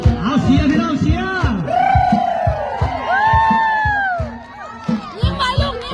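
A crowd cheers and whoops loudly at a Lao lam tang wai performance by schoolchildren, with shouts and rising calls over a rhythmic pounding beat, mixed with voices.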